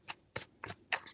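Tarot cards are shuffled in four quick, crisp riffles spaced evenly apart, faint and close with no talking over them.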